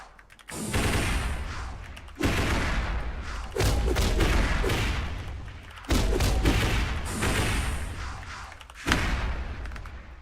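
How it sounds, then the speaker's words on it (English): Explosions in a video game under development burst in several heavy, booming blasts at irregular intervals, each with a sharp onset and a long rumbling decay, loud and close with no other sounds. "I can pause the explosions."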